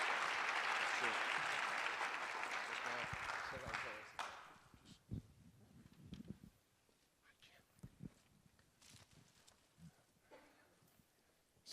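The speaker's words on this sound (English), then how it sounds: "give it a round of applause for the two gentlemen" At a city awards ceremony in Tempe, a crowd gives a loud, dense round of applause that fades after about four seconds into scattered claps, footsteps and quiet murmuring.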